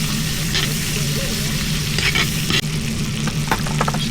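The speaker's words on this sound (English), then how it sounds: "I'm gonna be tossing in my butter." Butter sizzling and crackling in a frying pan on low heat, a steady close fry with a few scrapes and clicks, no talking.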